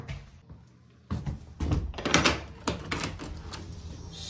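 A door opens as someone arrives: a sudden thump and latch clatter, followed by a few seconds of rustling and knocking movement nearby.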